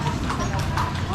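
Horse hooves clip-clopping on a street in Vigan, a steady rhythm of hoof strikes mixed into busy street ambience with people talking nearby.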